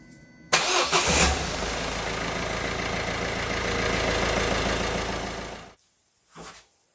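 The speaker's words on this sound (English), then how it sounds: "we're going to start the engine" A Peugeot 308 1.6 HDi diesel engine cranks and catches with a loud burst, then settles into a steady, rumbling idle for several seconds before shutting off abruptly.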